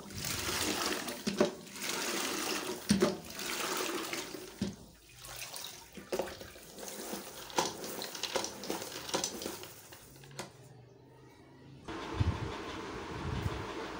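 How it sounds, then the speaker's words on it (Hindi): Water running from a tap into a bucket or onto tile floors during mopping, a continuous broad rushing splash with shifting intensity, fairly faint and steady with a brief change near the end. "नल भी आया हुआ है पानी लगाई हूँ मैं"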